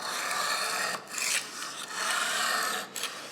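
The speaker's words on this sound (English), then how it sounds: "you slide the knife across the stone as you're sharpening it" Kitchen knife sliding across a sharpening stone held by magnets underneath, a steady rasping scrape repeated in about three strokes with brief pauses between, close and alone.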